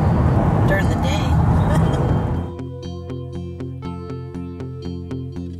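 A car driving along a road to a campsite at Shaffer Bend Park, a steady rolling road and engine rumble that softens partway through as music with a regular beat takes over.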